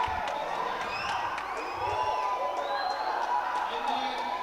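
A darts crowd at a PDC World Championship qualifier cheering after a throw: a steady roar of cheers, whoops and applause with whistles, under a commentator's voice throughout.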